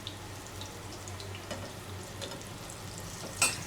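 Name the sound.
frying tikia patties in oil on low heat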